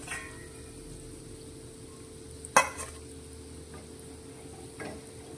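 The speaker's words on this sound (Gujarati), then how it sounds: "આપણી બનાવેલી આ મીઠાઈ સારી રીતે તળાઈ ગઈ છે તો તેને હવે આપણે તેલમાંથી બહાર કાઢીશું" Homemade sweet dough balls fry quietly in hot oil with a soft, constant sizzle. A sharp metal clink from a utensil stands out midway, with a few fainter taps afterward.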